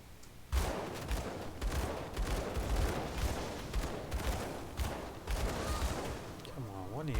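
Arcane bombs detonate in the Grim Dawn action RPG, a rapid series of loud bursts and booms crowding together over several seconds, with a rising wobbling magical tone near the end.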